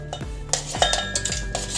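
Cut pumpkin pieces for Agra petha tip into lime water in a metal pot, giving a few close, sharp clanks and knocks of vegetable against the vessel, spaced roughly a third of a second apart.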